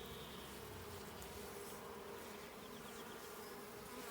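Honey bees buzzing around an apiary hive, a soft continuous drone of many insects with no voices, steady and fairly distant throughout.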